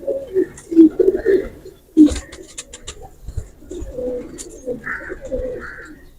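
Young teddy and golden pigeons give low, throaty coos in short clustered phrases, close and fairly clear, with light rustling in the background.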